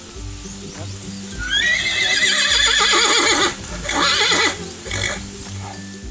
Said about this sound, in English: But he's a beautiful horse, but not one for riding.